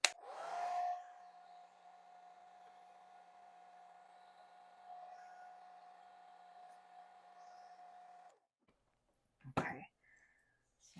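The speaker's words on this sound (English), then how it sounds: "I am going to hit all of this with a hairdryer." A hairdryer's steady motor hum with a constant whine runs for several seconds while drying a craft ornament, then cuts off, followed by brief clattering handling noises.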